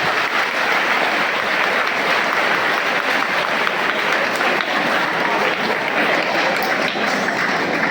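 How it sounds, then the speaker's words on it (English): Loud, steady applause from a crowd at a school panel inspection, thanking the police band for its drum beat and salute, dense continuous clapping without speech. "You give that the claps for that."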